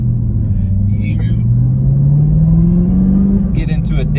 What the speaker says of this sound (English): when you are used to driving a manual and kind of blipping the throttle to take off, kind of like that